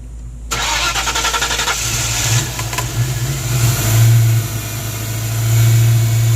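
A 1994 convertible's engine cranks and catches after a brief silence, then settles into a loud, close, uneven idle that surges and dips as it struggles to stay running.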